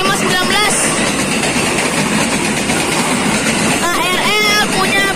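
A 1986-built electric commuter train rolls past close by, loud rumbling with rhythmic wheel clatter and squealing metallic tones rising and falling.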